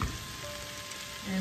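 Squash and runner beans sizzle quietly in a pan, a soft steady frying hiss with little change over a brief moment and no stirring strokes.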